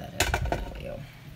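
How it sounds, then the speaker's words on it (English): Browned ground beef is stirred into vegetable soup in a pot, a few quick clinks and scrapes of a utensil against the pot followed by a fading rumble, close and moderately loud. "Just stir that up."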